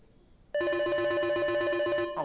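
Telephone ringing in a Japanese horror video game, a sudden bright electronic trill that starts after a short quiet and repeats in a fast, even warble until the clip ends.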